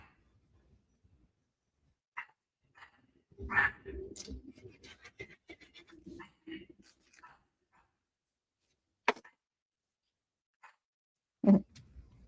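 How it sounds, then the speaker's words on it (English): An indoor dog barking at a cat during card-making crafts; a few sharp, isolated barks spaced several seconds apart, mixed with quiet handling sounds and a person talking. "She's barking at the cat."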